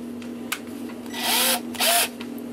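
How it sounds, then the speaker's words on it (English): A parallel reamer opening out the bore of a brass part from a New Haven drop octagon clock, giving two short bursts of close, hissing scraping over a steady low motor hum. "ream this out from the inside or outside, because this isn't a tapered reamer"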